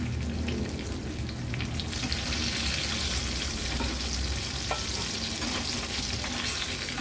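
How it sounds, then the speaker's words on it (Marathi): Squid rings fry in a pan with a steady, dense sizzle, loud and close, with occasional light stirring sounds and no talking. "उरलेल्या रिंग्स देखील मी अशाच पद्धतीने फ्राय करून घेते।"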